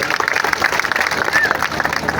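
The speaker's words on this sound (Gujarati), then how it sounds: "તાળીઓ થઈ" An audience claps steadily through a live folk music show in Tharad, Gujarat, a dense, continuous burst of applause with voices mixed into the crowd noise.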